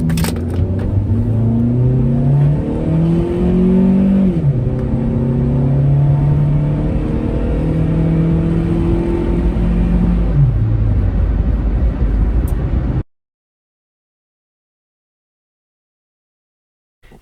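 A Suzuki Aerio AWD hatchback engine revs hard and climbs through several gears, pitch rising then dropping at each shift, loud and close, before cutting to silence.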